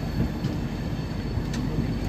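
A long-distance passenger train pulls out of New Delhi and rolls steadily along the rails, giving a loud, continuous rumble from inside the carriage with faint wheel clatter and no talk.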